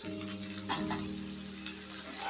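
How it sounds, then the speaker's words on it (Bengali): Lemon rice sizzling and frying in a pan after lemon juice is added, a steady crackling hiss with faint stirring clicks, close and continuous, with a low hum underneath and no talking. "দিয়ে এটাকে ভালো করে একটু ভাজা ভাজা করে নিই"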